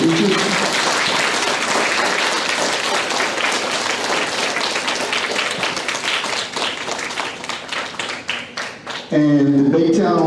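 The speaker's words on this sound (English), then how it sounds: "So let's give them a round of applause for our fifth grade teachers." A school audience at a DARE graduation gives a loud, dense round of applause for the fifth grade teachers, sustained for about nine seconds before a voice begins speaking over a PA.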